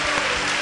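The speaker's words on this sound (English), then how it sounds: "Clap your hands for Jesus Christ" A church congregation claps their hands during a Sunday service, a brief, loud, dense burst of many hands applauding together up close.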